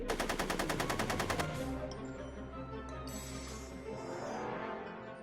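Rapid gunshots from Back to the Future: The Game crack in a quick, evenly spaced burst of about a dozen shots over the first second and a half, followed by a lingering low rumble and ringing tail.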